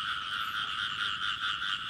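Large female frogs weighing 700–800 grams croak in a dense, continuous chorus at night, a steady pulsing drone with rhythmic swells, close and fairly loud, with no voices.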